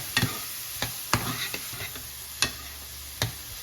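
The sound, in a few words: stirring onions cooking in a pan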